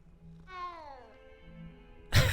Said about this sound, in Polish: odcinek z głaskania kota